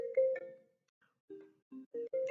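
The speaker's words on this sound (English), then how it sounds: "My phone loves to ring." A mobile phone ringtone goes off during a skincare routine at home, sounding as short melodic tones that start and stop in several separate bursts, clear and fairly close.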